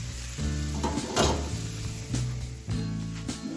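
Prime rib steaks and honey garlic sausages sizzling on an outdoor barbecue during a blizzard, a steady close crackle broken by a few clunks and knocks of the grill.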